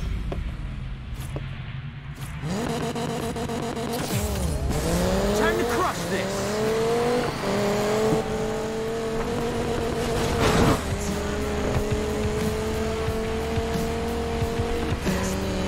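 Race cars in Need for Speed Payback, with engines roaring and rising through gears and tires squealing, loud and continuous over layered game music.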